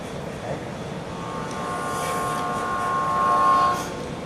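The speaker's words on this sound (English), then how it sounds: "Shorty Hawkins at the depot just watched the Albany train go by" An Albany train passes a small-town depot at night as a radio play sound effect, a steady rumble building and swelling closer toward the end, with a faint whistle-like tone sustained through the middle.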